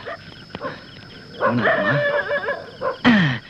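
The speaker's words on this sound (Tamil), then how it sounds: "எங்க போன அந்த நாய்" A dog barks and yips in short bursts at night, fairly close, with a whimpering note and a sharper bark near the end, in a comedy film scene.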